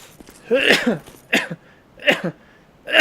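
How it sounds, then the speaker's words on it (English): A man gives a series of harsh coughing sneezes, four abrupt bursts spaced about half a second to a second apart, close and loud. "With my weird coughing sneeze."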